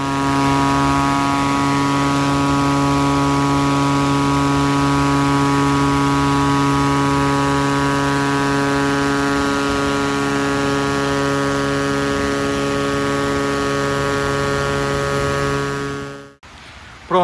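An airplane engine being tested after servicing: loud, steady drone with strong tonal harmonics holding constant for about sixteen seconds, then cutting off abruptly, followed by a brief clatter.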